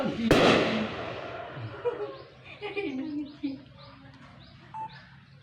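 A single sharp firecracker bang at the start, from a police disposal of thousands of firecrackers in Bangkalan, then quieter crackling, chirping and voices in the background.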